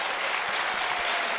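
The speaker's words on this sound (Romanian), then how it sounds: "Vă mulțumesc pentru aplauze și vă mulțumesc pentru energie!" Audience applause for a comedian on a Romanian TV comedy show, a dense steady wash of clapping that fills the short moment on its own.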